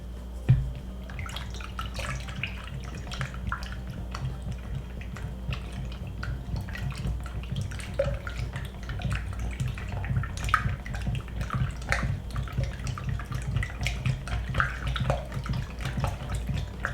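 Film developing solution is stirred in a container, giving soft, continuous liquid swishing and light drips with small clinks, close and fairly quiet throughout.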